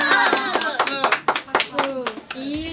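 Quick bursts of hand clapping in a backstage waiting room at a music show, sharp claps mixed with lively chatter and laughter from several young women close by.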